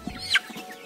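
A single short cluck rises from chickens in a 200-bird urban broiler farm among housing, close and moderately loud over low background noise.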